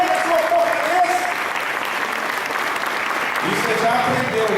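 A church congregation claps during a sermon, with sustained applause filling the room while a preacher's voice carries over it.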